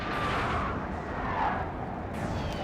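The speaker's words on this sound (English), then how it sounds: "Cannon ready, sir." Cannon and artillery fire in the Napoleon Total War game, with booming blasts that roll into a dense, continuous rumble of distant battle.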